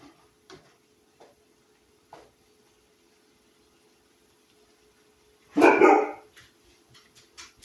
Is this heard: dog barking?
yes